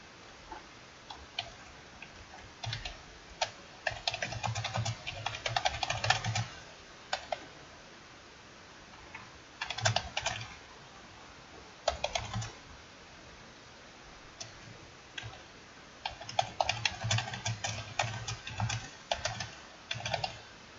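Someone types on a computer keyboard in quick bursts of close, crisp key clicks separated by short pauses, quiet overall.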